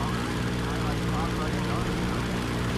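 Helicopter rotor and engine drone in Call of Duty Ghosts on Wii U, a steady dense whir held throughout under someone speaking German.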